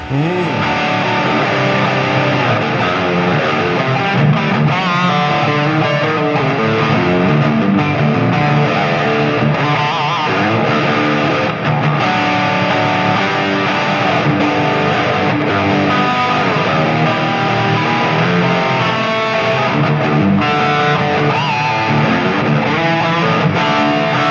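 Electric guitar played through the Mooer Ocean Machine, a signature dual delay and reverb pedal, gives a loud, continuous, heavily distorted wash of sustained tones with long, smeared echoes and no talking.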